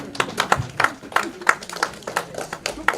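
A small group at a housing cooperative's annual general meeting claps in a loose, uneven rhythm for about three seconds, individual hand claps clearly audible and fairly close.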